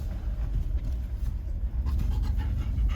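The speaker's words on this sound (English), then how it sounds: "She's panting away again." A dog pants steadily inside a vehicle in spring, quick rhythmic breaths sitting close over a constant low engine and road rumble.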